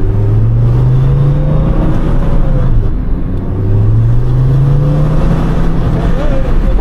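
A low-budget diesel car built for drifting accelerates loudly, its engine note rising in two long revving sweeps with a brief dip between them, close and dominant.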